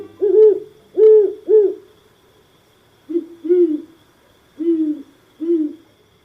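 Great horned owl giving a series of deep, resonant hoots, a quick group of three followed by pairs after a short pause, clear and fairly close against a quiet night background.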